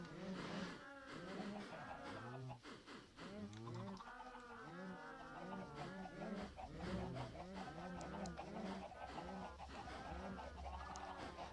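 A flock of Minecraft chickens clucks constantly, with short overlapping clucks and chirps packed together over a low steady hum throughout.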